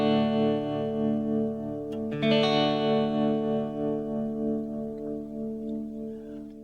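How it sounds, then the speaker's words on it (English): An electric guitar played through a Danelectro Filthy Rich tremolo pedal lets a sustained chord pulse steadily in volume, then a fresh strum rings out and slowly fades, loud and clear with no talking. "We can turn up the depth so that the tremolo is more pronounced."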